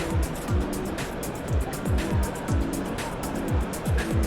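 An Austin Sprite classic car drives around a restoration show stand indoors, its engine note rising and falling in a steady repeating pattern, loud and close.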